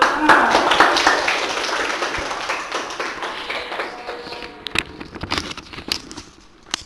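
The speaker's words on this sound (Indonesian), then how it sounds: "Ya, tepuk tangan." A small group of students in a religious class on animal slaughter claps together, a dense burst that thins into scattered individual claps, with voices around it.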